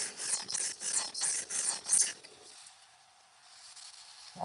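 A knife blade drawn along a 320-grit sharpening stone, giving several quick rasping strokes in a steady rhythm that then stop, leaving near silence.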